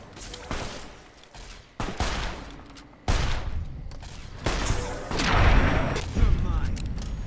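Several gunshots from a gun in the game Fallout New Vegas, sharp loud blasts spaced a second or so apart, each trailing off into a rumbling decay, then a burst of rapid firing.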